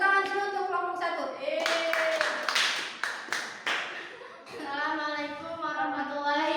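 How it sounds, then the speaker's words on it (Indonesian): Classmates clap for a student group in a school classroom, a short burst of several claps in the middle, with children's voices talking before and after. "Tepuk tangan dulu untuk kelompok 1"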